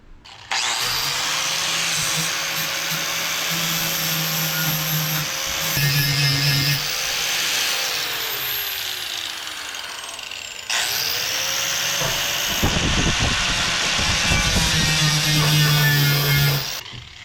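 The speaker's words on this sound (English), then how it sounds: "I'll smooth it all down with the flap disc" A loud, continuous angle grinder with a flap disc smooths down metal, whining steadily and close with shifts in pitch as pressure changes, briefly cutting out around the middle before starting up again.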